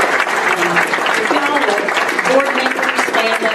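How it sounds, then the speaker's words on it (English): Banquet audience at a Union County business and professional awards dinner breaks into sustained, dense applause that fills the room at steady loudness, with voices faintly mixed into the clapping. "let's give them all a round of applause."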